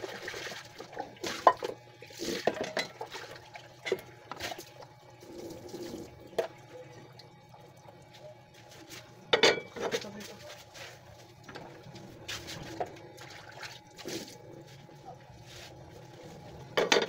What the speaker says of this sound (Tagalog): Hugasan ko po yung kawaling pagpipituhan ko.